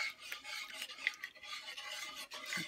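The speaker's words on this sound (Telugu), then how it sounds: "తిప్పడం మాత్రం అండి, కంటిన్యూస్గా ఈ హల్వా తయారయ్యేంత వరకు తిప్పుతానే ఉండాలండి" A halwa mixture stirred continuously in a pot, with close scraping and rubbing of the spoon against the pot in an uneven rhythm and a few small clinks, no voices.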